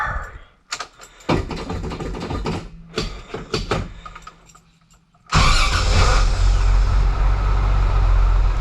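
A 1978 Toyota FJ40 Land Cruiser with a gear reduction starter making its first start: a few short clanks and starter cranking bursts, then the engine catches and settles into a loud, steady idle close by.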